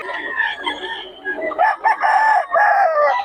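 Roosters at a bird market in Bocaue crow repeatedly and loudly, with overlapping calls, while hens cluck and chatter all around them in a busy close chorus.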